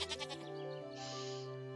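Goats on a farm in the Harvest Island game bleat in a drawn-out, quavering call that swells and fades over about a second, heard close and alone without talk.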